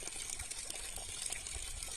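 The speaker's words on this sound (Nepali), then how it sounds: "यो पानी चाहिँ यो प्याजमा लागिरहेको रहेछ" Irrigation water flows into an onion field with a steady, faint gushing and trickling, a continuous low rush without speech.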